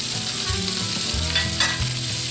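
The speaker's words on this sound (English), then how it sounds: "let them saute up, because we're going to let the caramelization of the onions and of the mushrooms work with us" Onions and mushrooms sautéing in a pan give a loud, steady sizzle with stirring scrapes running through the short stretch; no voices.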